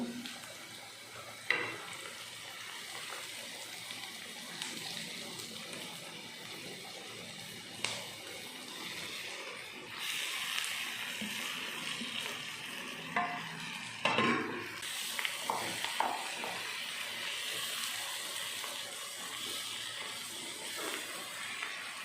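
Boiled, cut potatoes are stirred and fried in a pan with a soft, steady sizzle, punctuated by occasional spoon knocks and scraping, no talking.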